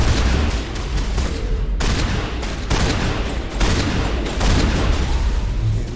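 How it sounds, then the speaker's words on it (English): Shotgun blasts in Mass Effect 1 Legendary on hardcore difficulty, loud heavy booms spaced a second or so apart amid a dense, continuous battle din. "Shotgun time."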